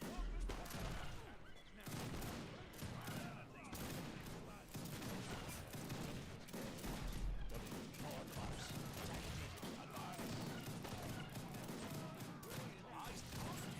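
Musket volleys crackle in Age of Empires 3 Wars of Liberty as units open fire in a battle, with repeated overlapping rounds of dense gunfire running throughout under game music and a voice talking.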